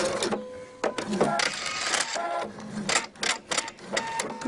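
Domestic sewing machine stitching back along a ribbed V-neck neckline, a fast mechanical whirring in short bursts separated by pauses, close and clear.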